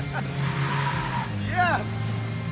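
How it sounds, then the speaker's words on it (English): A Roadkill Garage muscle truck with a four-link rear and a 6 3/4 ring gear runs around cones, its tires letting out a rising, wavering squeal over a steady engine drone while people shout nearby. "Let's go run it around the cones and see how it does."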